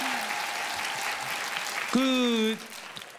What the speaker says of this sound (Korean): 축하의 의미로 박수 한번 쳐드릴까요